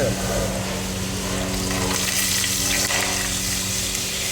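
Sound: water pouring

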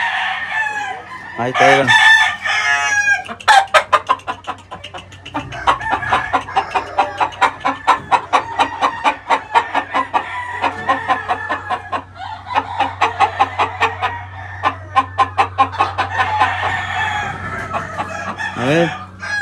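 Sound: rooster clucking and crowing

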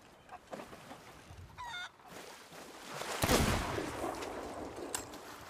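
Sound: chicken clucking in the video game Sea of Thieves

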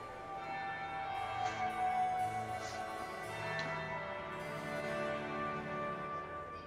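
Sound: bell ringing in the video game Dragon Age: Inquisition

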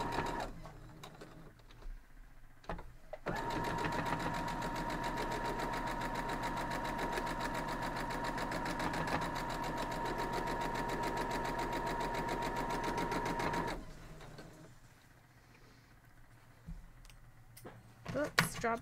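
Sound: sewing machine stitching a quilt block seam

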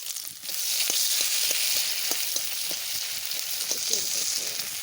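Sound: potatoes added to hot oil, frying

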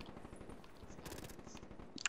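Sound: hip fire gunshots in video game Call of Duty Black Ops 3

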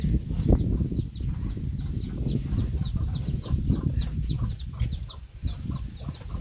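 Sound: chickens clucking

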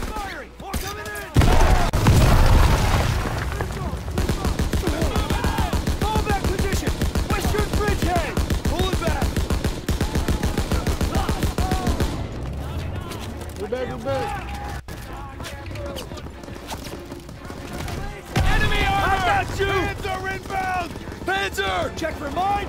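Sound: gunfire from soldiers in a WWII video game

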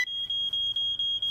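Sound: smoke alarm test beeping in a cartoon

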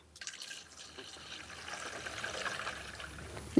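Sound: pouring water into jackfruit pot

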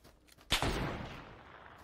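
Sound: gunshot in the video game PUBG

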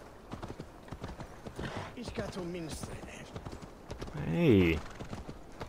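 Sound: horse trotting in video game Assassin's Creed Valhalla

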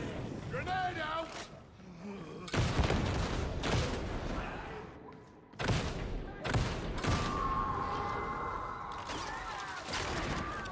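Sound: grenade and gunfire in video game Warhammer 40,000: Darktide

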